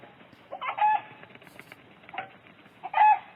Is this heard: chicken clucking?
yes